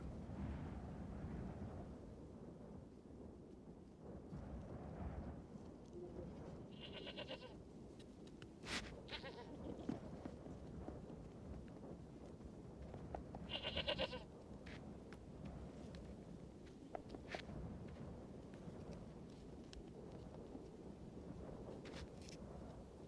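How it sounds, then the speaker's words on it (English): Rocky Mountain goats high on a cloud-wrapped mountain in Waterton/Glacier National Park give a few brief bleats, around the middle of the clip, heard faintly over a steady low rumble of wind and background noise. "Rocky Mountain goats gaze down into the clouds."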